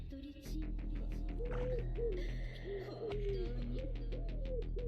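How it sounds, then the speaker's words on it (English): A pigeon in modded Minecraft gives a run of repeated, owl-like hooting coos, steady and fairly close, with a clicking patter and game ambience beneath. "a pigeon's making an owl noise"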